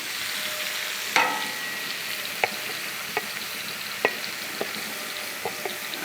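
Garlic dropped into butter on a Blackstone griddle fries with a bright, steady sizzle, broken by a louder hit of food landing and several short spatula taps and scrapes. No voices.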